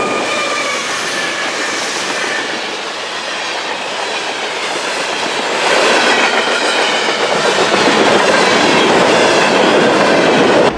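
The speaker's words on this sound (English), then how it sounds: "this would be CSX G622, the first train we would end up seeing on this very busy day" A CSX freight train, G622, rolls past on the North End subdivision at Old Duvall Road, a loud, steady close-up roar of wheels and cars with clickety-clack and faint wheel squeal that grows slightly louder midway.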